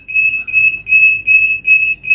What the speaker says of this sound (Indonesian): ini alarm 2-nya berbunyi karena tadi alarm 2